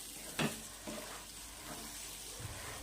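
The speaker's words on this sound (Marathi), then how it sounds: "अंडे फोडून टाकलेलं आहे आता असं फिरवून घ्यायचं आहे" Broken eggs are stirred in a hot pan for a fenugreek egg bhurji, giving a faint, steady sizzle. A few soft scrapes and knocks from the stirring mark the first second.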